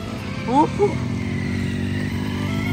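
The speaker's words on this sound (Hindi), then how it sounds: "आवाज़ आ रही होगी आपको बाइक की साउंड चेक करो भाई" A Benelli 300 motorcycle engine drones steadily nearby, a continuous low exhaust rumble with a brief voice cutting in near the start.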